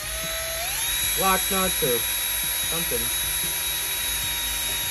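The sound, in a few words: drill drilling holes in RC crawler chassis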